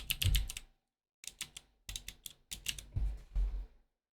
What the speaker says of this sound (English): Is the keyboard loud?